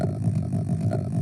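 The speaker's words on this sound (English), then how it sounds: "Just me popping with my mouth into a glass jar and then pitching it, and suddenly we have a bike engine" A video game motorbike engine built from mouth pops into a glass jar, pitched down into a steady, low, throbbing idle that pulses rapidly and stays loud and close throughout.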